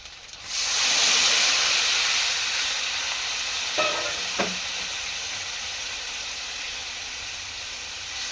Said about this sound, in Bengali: মশলাটা পুরো কষে নিচ্ছে